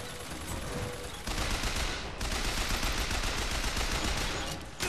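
Loud bursts of gunfire from the video game Bioshock Infinite, aimed at a George Washington figure. Dense rapid shots fill most of the stretch, with a short break, and no voice is heard over them.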